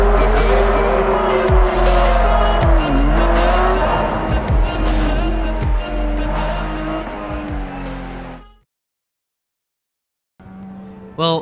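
A 2022 Porsche Cayman GT4 RS races in the Assetto Corsa video game with a loud, close engine that revs up and down through gear changes, tires squealing through corners. The sound cuts to silence, then briefly returns.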